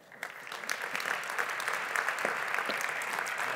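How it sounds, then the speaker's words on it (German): Audience applause at a health awards ceremony, a steady, dense wash of clapping from a seated crowd that swells quickly and holds at an even level throughout. "Ihr Applaus."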